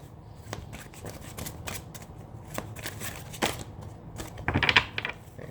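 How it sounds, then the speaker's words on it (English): A deck of cards being shuffled, with soft riffling clicks and a louder burst of rapid flutters toward the end, close up. "Give it one more shuffle here."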